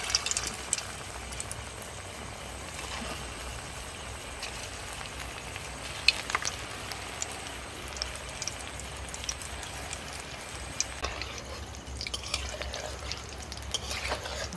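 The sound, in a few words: fried roti pieces being fried in a pan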